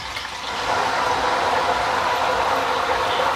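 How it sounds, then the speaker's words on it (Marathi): Salted water splashed into hot oil where potato wafers are frying on a gas stove, giving a steady loud sizzling hiss that swells and holds without talk. "यामध्ये आपण मिठाचं पाणी तयार केलेलं आहे ना ते घालूया"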